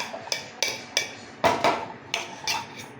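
Egg sandwich filling with onions being mixed in a bowl, a spoon knocking against the bowl in a string of crisp clinks and taps at a steady, uneven rhythm, close and moderately loud with no voices.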